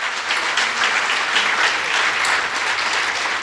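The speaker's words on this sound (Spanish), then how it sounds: "Denle un fuerte aplauso al Señor" A church congregation applauds during a sermon, with dense, steady clapping that fills the room evenly from start to finish and no voices rising above it.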